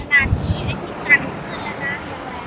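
Strong wind gusts buffet the microphone on Suchada beach in Rayong, with a steady roar of surf beneath and someone speaking excitedly over it.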